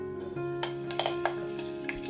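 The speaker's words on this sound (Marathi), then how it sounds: "जिरं फुलायला लागलं की थोडंसं कढीपत्ता घालून घ्यायचा" Curry leaves hit hot oil already tempered with popping mustard seeds and cumin, giving a close, steady sizzle broken by a few sharp crackles over a couple of seconds, with no speech.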